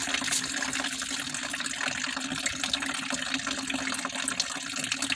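Antifreeze pours steadily out of a car radiator's drain plug into a container, a continuous close splashing trickle of liquid with no talking.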